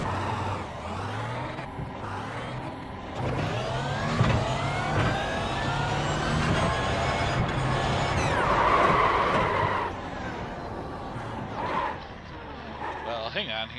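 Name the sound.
Audi R18 race car engine on test laps in iRacing video game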